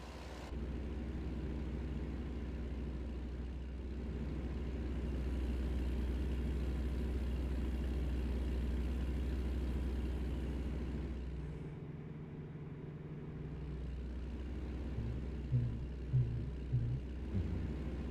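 A Kenworth truck engine runs steadily in American Truck Simulator, a low, even drone that holds close and constant. It briefly drops away before returning, with a few light clicks near the end.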